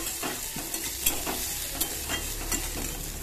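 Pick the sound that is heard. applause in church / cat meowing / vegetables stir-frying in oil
vegetables stir-frying in oil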